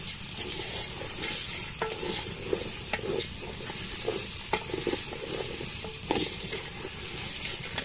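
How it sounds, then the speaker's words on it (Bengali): Polao rice being stirred with spices in a pot over a village stove, with a steady frying sizzle and repeated scraping strokes of a spoon against the pot, close and continuous. "চাউলটা ভালো মতো একবার মিক্স করে দিতে হবে মশলার সাথে।"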